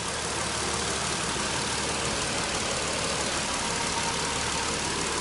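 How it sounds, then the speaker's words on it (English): V6 engine of a 2016 Nissan NV van idling: a steady, dense engine hum with a low rumble, constant and even throughout, with no talk over it. "It's got the motor, runs great in it. Got a V6 in it."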